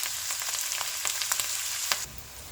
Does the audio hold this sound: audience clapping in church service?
no